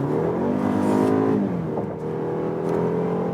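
A 2019 BMW X3 30i G01 with a 252-horsepower four-cylinder engine accelerates hard from 70 to 100 km/h in sport mode. The engine drone holds loud and steady with a rising pitch and a brief dip near the middle.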